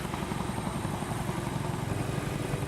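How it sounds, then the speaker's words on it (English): A CH-47 Chinook helicopter flying on a fencing-material airlift gives a steady, moderately loud rotor throb and engine rumble with a pulsing beat, no voices. "They'll have two CH-47 Chinooks flying the material today."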